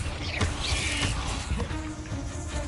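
Bombarda spell blasts cast in the video game Hogwarts Legacy: a few rough, crashing bursts within a couple of seconds, loud and close over a busy game background.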